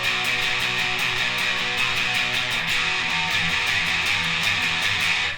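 Electric guitar chorus part from a song, played with string bends accenting the chords, a steady, bright distorted riff sounding continuously and loud with no talking over it.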